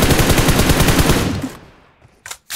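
Rapid automatic gunfire in the mobile game BGMI, a loud close burst of evenly spaced shots lasting over a second that fades out, then two short sharp shots.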